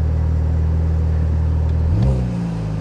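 A Toyota GR Supra with the 2.0-litre four-cylinder engine idles with a steady low rumble, then is blipped into a short rising rev near the end before settling back, loud and close, with no talk.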